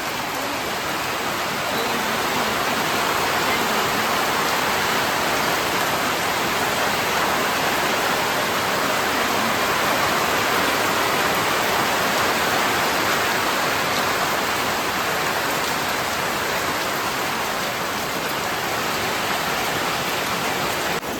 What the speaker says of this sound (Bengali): সন্ধ্যাবেলা থেকে বৃষ্টি হচ্ছে